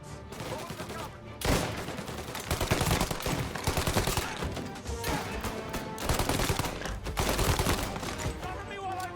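Rapid video-game gunfire from Mafia: Definitive Edition, dense bursts and volleys filling the whole stretch, loud and sustained with brief lulls, game voices faintly mixed in.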